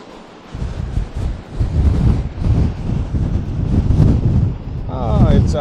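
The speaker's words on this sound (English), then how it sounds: "Oh my, it's a bit windy." Gusty wind at Lake Elwell in the Willow Creek Recreation Area buffets the microphone in a steady, loud rumble for most of the clip, with a person talking over it.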